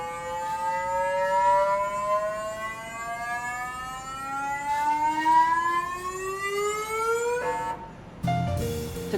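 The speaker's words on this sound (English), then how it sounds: "When we're introducing a sample into SAM, it'll go through a resonance and it'll sound like this." The SAM instrument on the Curiosity Mars rover resonates as a sample is introduced, giving a rising, siren-like harmonic whine that sweeps slowly upward over steady noise, then breaks off into a brief burst.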